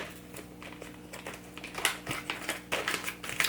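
A dried, crunchy vegan snack package being torn open, heard as a run of close, crisp crinkling and ticking bursts that grow busier toward the end.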